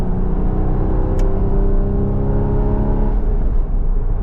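A Porsche Cayman 981 sports car engine drones loudly through its exhaust as it accelerates, a deep, continuous roar heard up close.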